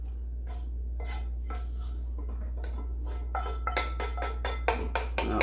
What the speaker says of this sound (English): We're just going to add our beef right to the bottom from the skillet.